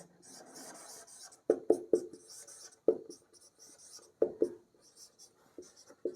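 Chalk strokes on a board during a maths lecture, scratchy and close, with sharp tapping hits at irregular intervals between softer scraping lines.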